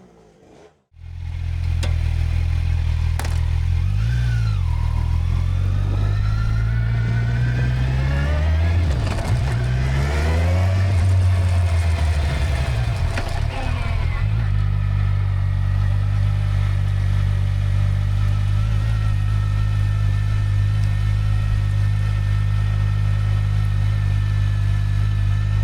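A Kawasaki Versys 1000 SE motorcycle starts and runs on a test ride, its engine revving up and down over a steady loud idle, then holding a constant drone for the rest of the clip.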